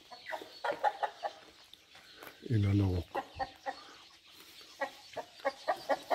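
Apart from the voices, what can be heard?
Bosveld chickens clucking at poultry farm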